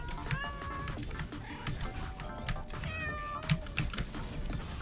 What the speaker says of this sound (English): So I changed it to the cat sounds